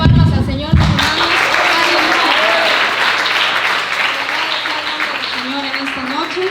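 A church congregation at a youth worship service breaks into sustained, dense applause that fills the room, with a voice speaking over it and a few voices calling out.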